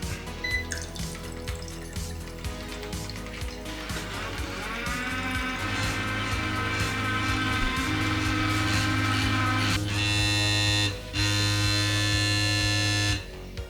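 A Cuzen matcha tea maker runs on its single-shot strength setting, giving a steady, fairly loud electric motor buzz with a droning hum that holds for several seconds, stops briefly, then resumes, with no talking.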